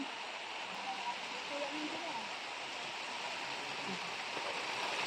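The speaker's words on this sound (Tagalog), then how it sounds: "Ala, ang lakas na ng ulan." Heavy rain pours down in a dense, steady hiss, with faint splashes and a few distant voices beneath it.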